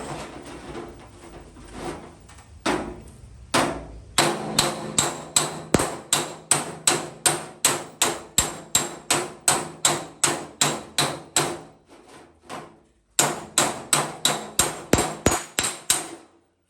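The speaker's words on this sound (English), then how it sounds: "wider, flatter hammer. We'll go for this high spot first." Steady rhythmic metallic hammer strikes ring out close by as a wide, flat hammer and dolly work a rusty XA Falcon fender panel, dozens of sharp even blows with a brief pause before the pounding resumes.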